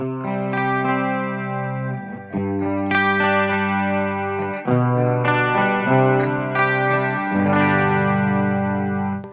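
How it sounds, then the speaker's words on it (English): Electric guitar through pitch-shifted Blackstar St. James amps: chords ring out in a steady sequence, thickened by a gentle shimmering chorus-like doubling with a hint of distortion and echo. "it gives you that chorus kind of feel, but more subtle"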